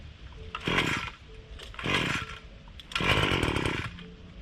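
Wild Badger 26cc gas string trimmer revving in three loud, rough bursts, each dropping back to a lower idle between throttle pulls, with a buzzy two-stroke snarl close by.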